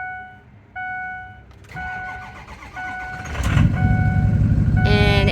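A Ford F250 truck with the 6.0L diesel engine cranks briefly and fires up, settling into a loud, close idle rumble, with electronic chimes sounding from the cab before and after the start.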